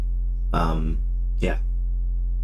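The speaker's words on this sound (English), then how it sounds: "changing from a sine wave to a triangle a little bit, but really fast like that. So modulating." A synthesizer holds a steady, buzzy sustained tone as its waveform modulates rapidly between sine and triangle shapes. A voice speaks briefly twice over the unbroken drone.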